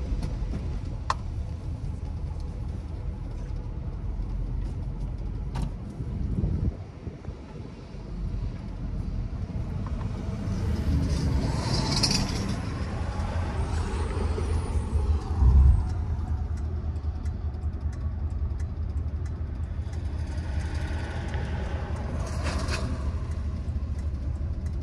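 A 1967 Oldsmobile Ninety-Eight luxury sedan rolls along a road with a steady low engine and road rumble from inside the cabin, swelling slightly midway, with no talking.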